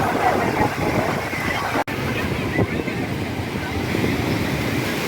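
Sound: sea waves on Puri beach

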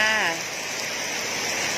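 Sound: rain falling outdoors

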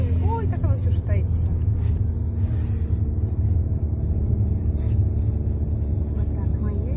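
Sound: car driving to a performance

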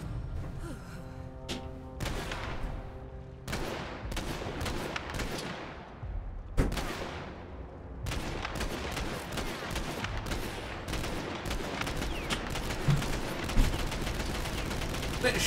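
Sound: gunfire shooting at the player in the video game Borderlands 3

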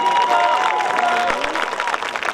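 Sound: crowd applauding the home team at an American football game

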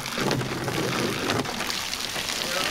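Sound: cold water pouring into a pool

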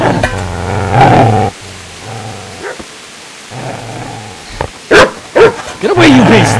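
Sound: dog barking in video game Kingdom Come Deliverance

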